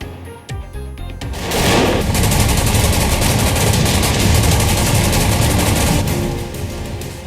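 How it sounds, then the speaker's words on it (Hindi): Rapid, sustained bursts of gunfire on the India-Pakistan border crackle loudly and continuously, like automatic weapons firing without pause for several seconds before tapering off. "भारत पाकिस्तान सीमा पर चल रही हैं गोलियां।"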